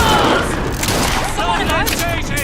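Gunfire in BioShock Infinite: Burial at Sea, a dense, loud fusillade of shots crackling continuously throughout, with voices shouting over the combat.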